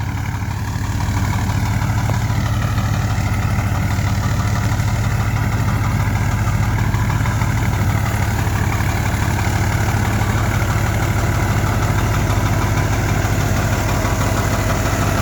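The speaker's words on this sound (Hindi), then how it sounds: "पहले जो तो आपको ट्रैक्टर का रिव्यू दे दूँ।" A model 480 tractor engine idles steadily and loudly close by, a continuous low mechanical rumble with a slight knocking rhythm and no talk over it.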